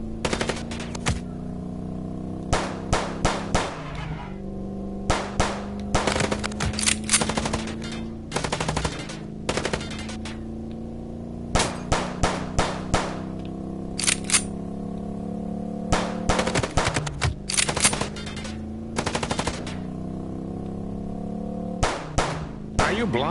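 Rapid bursts of gunfire from the Chicken Police: Paint it Red video game, firing in repeated volleys over a steady engine-like drone for the whole stretch, loud and close.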